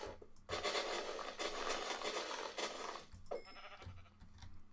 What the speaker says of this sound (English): I found a white sheep